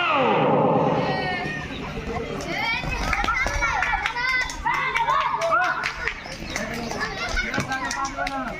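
Students clapping amid noisy children playing a running game outdoors, with sharp scattered claps over lively kids' chatter and shouts throughout.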